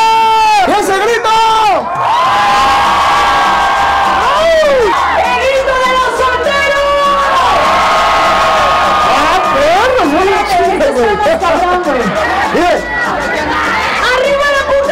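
A large crowd at a michelada festival in Cholula roars and shouts loudly and continuously, with whoops and cheers rising over dense chatter, close and alone without a clear single voice.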